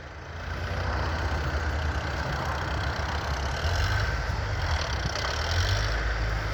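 A Lovol Foton 454 tractor with cab, reverser and 12+12 gearbox runs nearby, its diesel engine holding a steady low rumble that starts up and then continues without a break.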